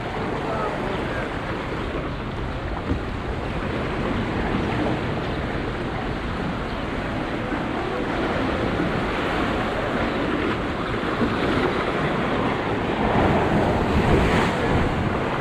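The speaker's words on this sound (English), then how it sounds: "Big waves." Big ocean waves crash and surge steadily around the sea arches of Los Arcos de Mismaloya near Puerto Vallarta, a dense continuous roar mixed with wind buffeting the microphone.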